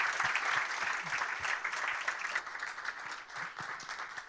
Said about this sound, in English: I would really request a loud round of applause for these three